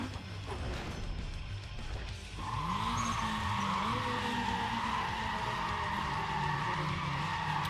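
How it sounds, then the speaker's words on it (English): Car engine and tire skidding in the racing game Need for Speed ProStreet: a loud, sustained engine drone, then a rising whine as revs climb through gears, with squealing tires, continuous and close. "that's a god-awful engine sound"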